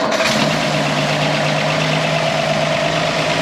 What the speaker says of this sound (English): That 215/6 fires right up just like it should.